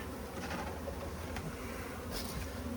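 Honeybees buzz around a swarm-catching box as field bees return, a steady, soft droning hum with no talking over it.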